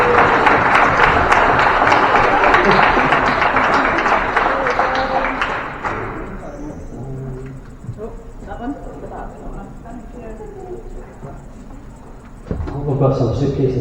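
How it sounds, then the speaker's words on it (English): A crowd at a volunteer week community celebration at Gardyne Campus breaks into dense, loud applause for about six seconds, then it fades into murmuring chatter and scattered voices, with a brief burst of noise near the end. "So give them a big round of applause, please."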